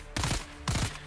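Two sharp bursts of gunfire from Dune Awakening, each a quick rattling volley of shots about half a second apart, loud and close with no talk over them.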